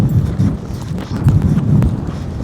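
Hooves of a ridden horse clip-clop in a steady, close rhythm during a riding lesson over jumps, loud and clear with no voices over them.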